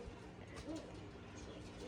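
A soft pigeon coo rises briefly amid quiet background hum, faint and low, heard once, from pigeons at a bird house.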